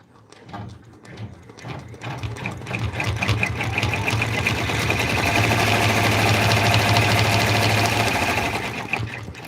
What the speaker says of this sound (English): And now it will stitch the ears in place.